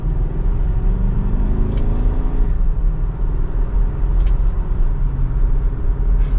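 A 2023 Nissan Armada SV accelerating in second gear with the shifter in manual mode, its engine a steady loud rumble rising under throttle, heard from inside the cabin with no talking.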